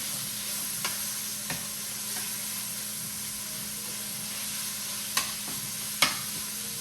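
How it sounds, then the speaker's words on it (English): Ground lamb browning in a pan for sliders, a steady close sizzle with a few sharp clicks of a utensil against the pan. "So I'm gonna continue to cook up the lamb."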